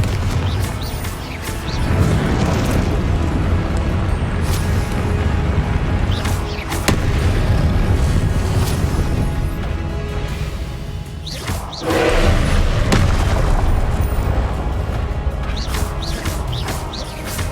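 Confringo blasting spells explode in Hogwarts Legacy, a loud, dense run of booming bursts and crashing impacts over a continuous rumbling game soundscape, with several sharp blasts standing out.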